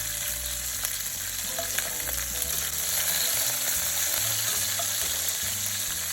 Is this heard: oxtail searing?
yes